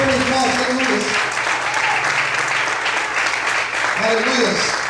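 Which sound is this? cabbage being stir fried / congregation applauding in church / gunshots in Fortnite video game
congregation applauding in church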